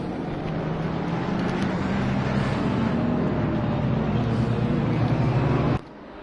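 Race car engines in a PS5 racing game during an eight-hour Indy endurance event drone steadily at moderate volume, overlapping with road-like noise, before dropping abruptly to a quieter hum near the end.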